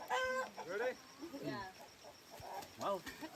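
Chickens in a coop in Costa Rica cluck and squawk in several short, uneven bursts that rise and fall, fairly close and clear, with no talk over them.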